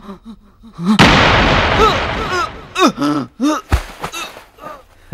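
A single loud gunshot cracks out in a Telugu movie scene, a sharp blast with a long ringing decay, followed by short gasps and groaning voices.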